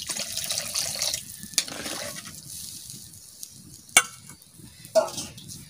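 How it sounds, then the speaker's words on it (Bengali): Water poured into curry simmering in a pan, a soft splashing pour over a gentle sizzle for the first couple of seconds, then quieter bubbling with a few clinks. "আর একটু জল দেবো।"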